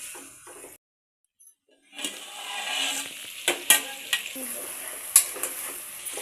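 Goat head and leg curry frying in oil, a steady sizzle that starts after a brief silence, with sharp spoon clinks against the pot and a few stirring scrapes.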